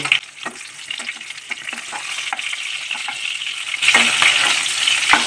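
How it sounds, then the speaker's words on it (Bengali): Stuffed pointed gourd frying in oil in a pan and being gently flipped, a crackling sizzle with scattered scraping clicks of the utensil, rising to a louder, brighter hiss near the end. "এইবার আমি পটলটাকে আস্তে করে উল্টে দেব"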